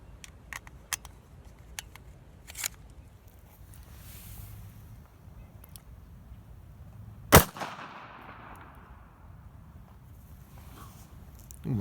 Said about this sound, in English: we're gonna try out something else with the same 380 ACP, but this time Hornady critical defense ammo